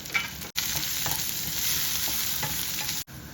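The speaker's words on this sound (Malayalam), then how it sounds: "നമ്മൾ സ്വല്പം ചെറിയ ഉള്ളിയും അതുപോലെ കറിവേപ്പിലയും കൂടി ഇടുക എന്നിട്ട് നന്നായിട്ട് ഇളക്കുക" Shallots and curry leaves sizzling loudly in hot oil for a Kerala-style salmon curry, stirred with a few scraping strokes, the frying hiss steady and close with brief breaks.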